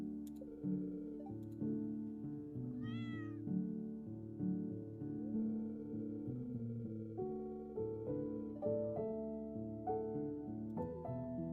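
Cat meowing in a farming video game, a single clear high meow rising over steady background game music, no talking.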